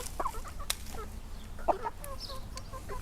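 Chicken clucking near a child, with a few short sharp clucks and squawks scattered over quiet farmyard background, moderately close and unaccompanied by talk.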